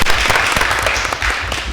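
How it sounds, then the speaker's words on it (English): A room at a school board regular meeting breaks into loud, dense applause, continuous clapping from many people filling the whole moment. "Yes, that deserves a round of applause."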